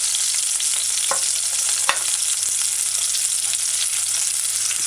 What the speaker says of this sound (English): Let it saute for a little while.